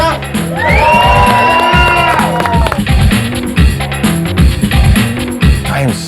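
A large arena crowd cheers and whoops for wrestler Chyna, a loud sustained roar with high shouts rising over the din, then rhythmic chanting pulses.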